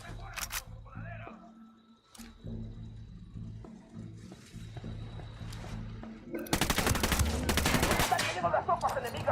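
Gunfire in the video game Ghost Recon Wildlands during a cartel shootout, a few sharp isolated shots followed by a sustained loud burst of rapid automatic fire, with voices talking over it.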